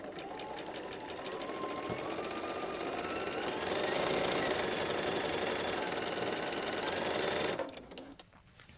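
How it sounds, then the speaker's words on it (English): Sewing machine stitching a quarter-inch patchwork seam for a table runner, a close, steady rapid whirr that runs for several seconds and then stops abruptly. "let's sew a nice, honest 1/4 inch seam allowance"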